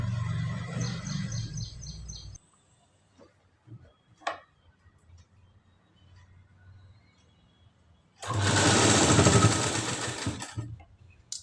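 A sewing machine stitches a katori blouse in two bursts, a rapid rattling run at the start and a louder close whir near the end, with quiet handling clicks between.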